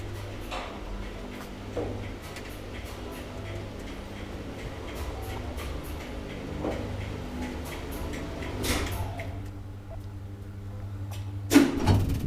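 An old, roughly 40-year-old Kone traction elevator in Amiraalinkatu 4D, Katajanokka, Helsinki, giving a low steady hum with scattered clicks and relay ticks, a louder mechanical rumble partway through and a sharp clunk near the end.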